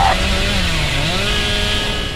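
The Hillbilly's chainsaw in the Dead by Daylight video game revs loud and close, a sustained buzzing engine drone whose pitch wavers slightly throughout.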